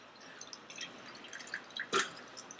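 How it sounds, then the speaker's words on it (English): Water running and dripping as apples are rinsed for a Dutch apple pie, a quiet trickle with scattered drips and one brief louder splash near the end, no talk. "Rinsing those chemicals off the apples."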